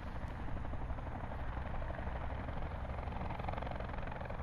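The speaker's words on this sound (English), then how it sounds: "We got a helicopter coming in." A helicopter in Call of Duty: Black Ops 4 thrums steadily overhead, a continuous dense rotor chop and engine roar at moderate distance, with no talk.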